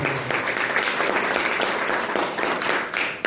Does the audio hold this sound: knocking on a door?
no